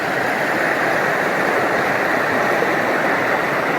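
Continuous close rush of a small trailside stream on Superior Hiking Trail's Split Rock Ridge Loop, an even, unbroken roar of flowing water with nobody speaking.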